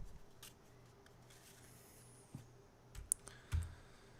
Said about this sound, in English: We'll type in this password